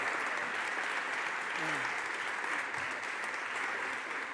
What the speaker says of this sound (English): Let's give him a round of applause, Senator.